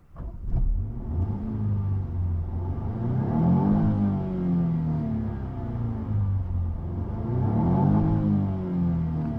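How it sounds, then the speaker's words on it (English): A 2021 Jaguar F-Type P300 with its active exhaust closed gives a muted, mid-pitched engine note, swelling through two moderate revs and easing back between them. "this is how it sounds without the active exhaust open"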